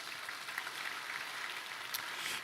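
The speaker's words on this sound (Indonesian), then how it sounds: "Tepuk tangan yang keras." A congregation at a church service claps together in a dense, continuous wash of applause, fairly quiet and even, with no voices above it.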